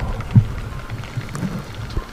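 Rain falls in a garden as a soft, continuous low rumbling patter with a few faint thuds, steady and close.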